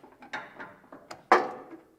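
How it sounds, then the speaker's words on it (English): A ratchet snugging a cab mount bolt on a C50 truck, a few separate close clicks and clunks followed by one sharper, louder metallic click near the end. "Normally you can jam a ratchet in there just enough to at least get us snug."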